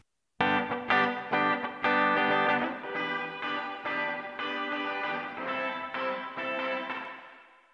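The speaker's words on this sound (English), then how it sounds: "so I can use that to really hear into what the reverb is doing" A wet, reverberant wash of sustained tones from a Delta Solo reverb return in a DAW, bright and metallic with a distorted edge, swelling and slowly decaying with no dry attack.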